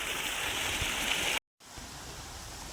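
Water from a large tank rushes out in a steady, broadband hiss like a small waterfall, cutting out briefly mid-way before resuming at a slightly lower level.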